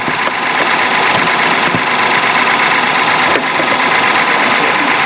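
A 460 hp, 2.5-tonne truck engine runs steadily at close range, a continuous loud idle with a faint mechanical rattle and no voices over it.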